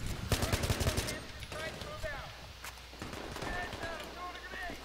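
Gunfire in a multiplayer shooter video game: an opening burst of rapid automatic shots, then scattered single cracks over game sounds, with players talking throughout.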